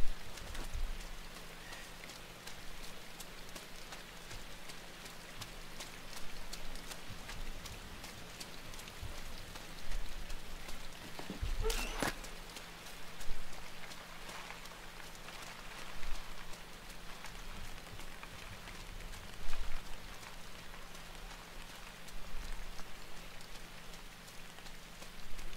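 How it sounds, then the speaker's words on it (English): Rain falls steadily in the video game Toasty's: Inside, a soft continuous patter with gentle swells and a few sharper drops, fairly faint and with no talking. "The rain is cozy."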